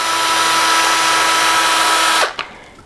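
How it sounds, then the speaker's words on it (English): Power drill boring a pilot hole into 2x4 lumber while framing a wall, a loud close steady whine that winds down abruptly near the end, followed by a short knock. "I'm going to go ahead and drill a couple of pilot holes into this 2x4 material"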